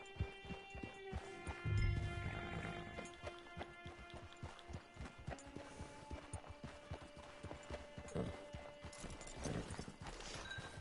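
Horse hooves clip-clop in a steady, rhythmic walk in a video game, with soft background music underneath.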